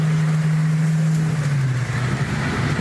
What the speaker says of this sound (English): It sounds like it's got exhaust pods.